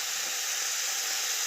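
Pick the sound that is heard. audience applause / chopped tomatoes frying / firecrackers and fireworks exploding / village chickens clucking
chopped tomatoes frying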